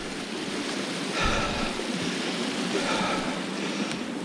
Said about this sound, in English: Lightspout Waterfall.